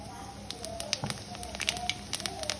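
Fennel seeds sizzle and crackle faintly in hot oil in a home kitchen, a soft spitting patter running underneath a person's talking.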